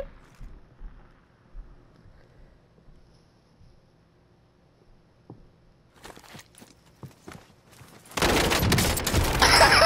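Video game gunfire starts with scattered sharp shots, then becomes a sustained, loud burst of rapid automatic fire that fills the last couple of seconds.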